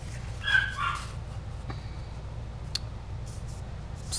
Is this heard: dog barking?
yes